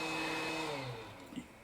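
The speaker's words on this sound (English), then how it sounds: "it's just the heat gun cooling down." A heat gun, used while freeing a stuck needle positioning wheel on an Elna Star Supermatic sewing machine, blows a quiet, steady fan whoosh as it cools down, fading slightly toward the end.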